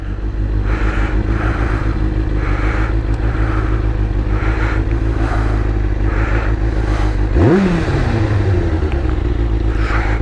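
A 2001 Kawasaki Ninja ZX-6R motorcycle engine runs steadily and loudly at close range while being ridden, with a brief rise and fall in pitch near the end as the revs shift.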